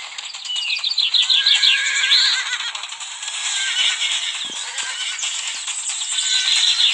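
A horse in the video game Animal Revolt Battle Simulator neighs repeatedly in shrill, loud whinnies, heard alone over a steady rattling background with no talk.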